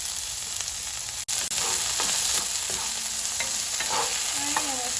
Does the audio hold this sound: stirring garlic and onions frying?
yes